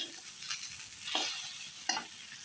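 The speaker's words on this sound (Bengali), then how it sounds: "আবারও একটু ঢাকনা উঠিয়ে নাড়া দিচ্ছি।" Okra sizzles as it fries in a pan, with two short scraping stirs from a spatula against a steady hiss of frying.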